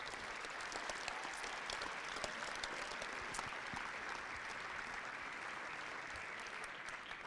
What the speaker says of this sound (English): I'd ask that we all give the athletes a round of applause for their efforts today